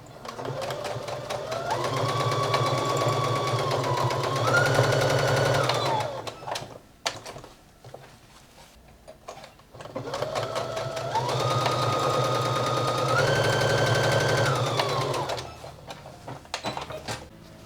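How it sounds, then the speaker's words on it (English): Two long runs of a sewing machine stitching waistband pieces together at the short ends, each a close, steady rapid whirring that speeds up slightly mid-run, separated by a quiet gap of small handling noises. "we're gonna sew them together at the short ends with 5/8 of an inch seam allowance"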